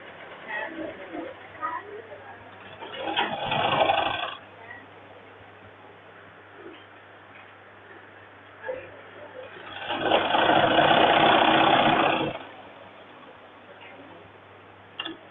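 A sewing machine stitches a men's shirt in two bursts, a short run and then a longer steady run of about two seconds, close and moderately loud, with quiet handling noise between.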